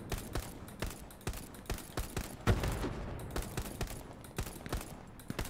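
Sustained suppressing fire in the WWII shooter Hell Let Loose at Sainte-Mère-Église, with steady, evenly spaced shots and bursts at mid distance and one heavier blast partway through, sounding alone without talk.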